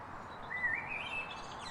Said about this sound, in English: we get lots of birds visiting us in our lovely garden. You might be able to hear some of them now